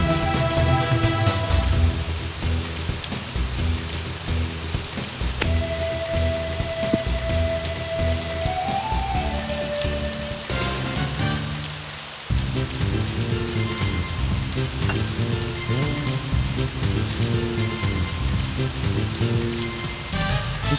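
Rain falls on a golf course in the Swing Away Golf video game, a continuous hiss of rainfall running beneath the game's music at an even level throughout.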